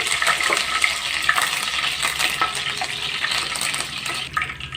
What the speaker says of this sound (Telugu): ఆవాలు కొద్దిగా ఒక రబ్బ కరివేపాకు వేసుకుంటున్నా